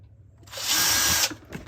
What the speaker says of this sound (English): we get drilling in this freaking plastic